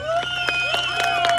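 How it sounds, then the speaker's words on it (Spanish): A crowd of children at a clown's joke show in San José Sabinillo, Oaxaca, claps and shouts excitedly. The bursts of clapping are mixed with high, sustained cheering voices, loud and close. "fuerte el aplauso"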